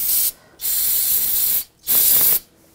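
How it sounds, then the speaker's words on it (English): Brake parts cleaner sprayed from an aerosol can onto the front brake of a 2007-2013 BMW 328i: three sharp hissing bursts, each roughly a second long, separated by short pauses, close and loud. "Take a little brake parts cleaner."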